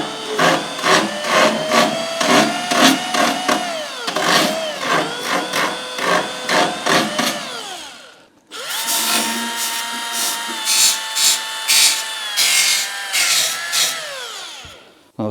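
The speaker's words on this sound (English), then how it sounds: "Black & Decker power file is an example." A Black & Decker power file sands a model car part with a loud, close, rasping buzz whose pitch rises and falls with load, pausing briefly midway before resuming with pulsing grinding strokes.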